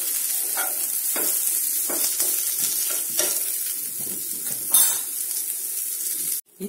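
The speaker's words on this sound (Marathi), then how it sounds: "इथे आपला कांदा व्यवस्थित परतला गेला आहे" Onion sautéing in a pan for misal gives a steady close sizzle and frying hiss, broken by several soft stirring scrapes and a brief clatter near the end.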